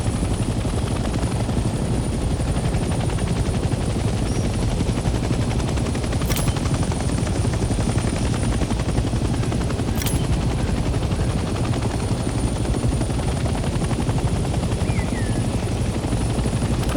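A helicopter in the Vietnam-era combat game Hell Let Loose flies with a loud, constant rotor thrum and engine roar that fills the whole stretch without letup, with faint distant gunfire behind it.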